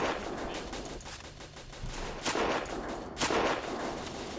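Distant gunfire from a Battle of Empires 1914-1918 game battle crackles steadily throughout, with rapid bursts suggesting machine guns amid a broad battlefield din, a few louder swells, and no voices.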